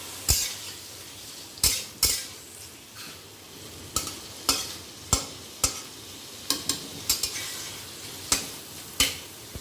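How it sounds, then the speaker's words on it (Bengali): Paneer cubes fried in a pan and stirred with a metal utensil: a steady soft sizzle under a dozen or so sharp, irregular scrapes and clinks against the pan, close and fairly loud, with no talking. "এই পনিরগুলোকে জাস্ট নেড়ে নেবো"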